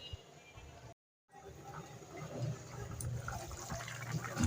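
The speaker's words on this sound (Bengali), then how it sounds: "তো সেই অনুযায়ী আমি ঝোলটা দিয়ে দিচ্ছি।" Curry broth poured into a cooking pot on a home stove, a soft continuous splashing of liquid that starts faint, breaks off for a moment, then grows fuller and steadier toward the end.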